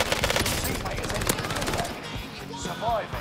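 Rapid automatic gunfire from an enemy in Call of Duty Vanguard Royale, a loud fast rattle of shots over the first couple of seconds that then fades while other game sounds follow.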